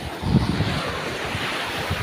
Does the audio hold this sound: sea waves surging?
yes